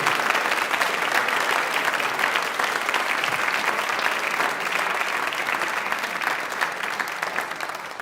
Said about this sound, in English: Round of applause for John.